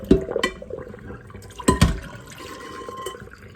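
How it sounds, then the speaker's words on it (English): Sea moss soaking water is poured down a kitchen sink, with splashing gushes near the start and again midway, and a quieter trickle between and after them. "I'm going to pour this down the sink on this other side"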